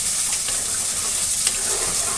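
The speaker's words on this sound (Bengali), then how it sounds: "জল দিয়ে দিচ্ছি।" Water hits spiced potatoes frying in a pan, giving a dense, even hiss of steam and sizzle that stays close and steady from start to finish.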